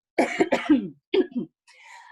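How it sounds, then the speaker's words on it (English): A person clears their throat twice in quick rough bursts, followed by a softer second clearing and a faint trailing sound. "Hold on a second, I should clear my throat."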